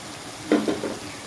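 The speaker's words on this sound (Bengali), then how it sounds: "এখন আমি কেটে রাখা বেগুনগুলো দিয়ে দিব" Pieces hit hot oil with a sudden sizzle, a few quick bursts of frying over a steady background hiss, close and fairly loud.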